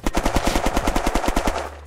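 Sentry guns in the video game Unturned fire rapid automatic bursts, a steady rattle of about a dozen close, loud shots, then cut off to a low rumble.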